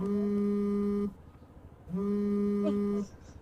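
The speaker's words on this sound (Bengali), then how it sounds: "একটা ফোন আসতেছে" An electronic ringtone sounds twice, two long steady tonal bursts separated by a short pause, fairly close and clear.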